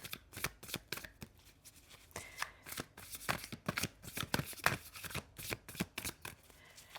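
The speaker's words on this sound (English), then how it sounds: "The cards are a little weird to shuffle today." A deck of tarot cards is shuffled close up in quick riffling bursts, a run of sharp flutters and taps with short pauses between them, with no talking.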